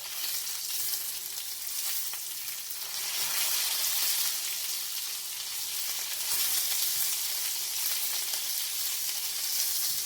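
Lamb chops sear in a hot pan with a loud, continuous sizzle and fine crackling spatter, steady throughout with no talking.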